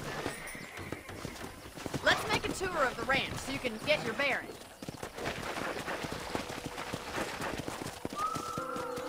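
Horse hooves clip-clop in a steady rhythm beneath a voice in the video game Red Dead Redemption, with ambient game background sounds and a faint tonal cue near the end.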